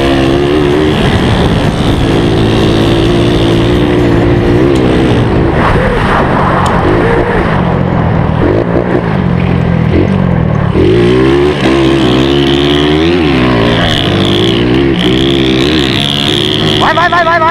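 Motorcycles accelerating hard on a muddy dirt trail, engines loud and close with repeated rising and falling revs and gear changes that hold for the whole stretch.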